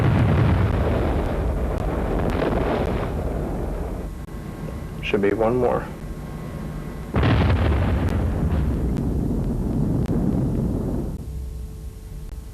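Underground blasting in the Avery Island salt mine: a few deep, rumbling booms that swell and fade, the first early and a louder one around the middle, with a person speaking briefly between them.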